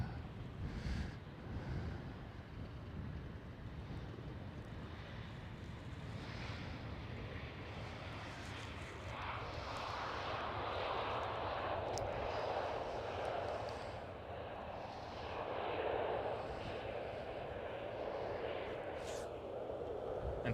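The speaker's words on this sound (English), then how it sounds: "Helvetic E190." Helvetic Embraer E190 airliner at Amsterdam Schiphol airport, a steady broad jet roar at moderate distance that swells and fades gently over the stretch, with some wind on the microphone.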